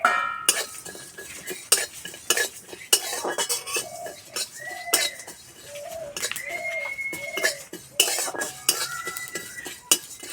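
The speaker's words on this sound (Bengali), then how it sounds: "গোটা জিরে, গোটা মৌরি, গোটা ধনে, দুটো শুকনো লঙ্কা আর গোটা গরম মশলা সব একসঙ্গে ভেজে নেব।" Whole cumin, fennel, coriander seeds, two dried red chillies and whole garam masala dry-roasting in a pan, stirred with a metal utensil that scrapes and clinks against the pan in repeated close strokes, with no one speaking.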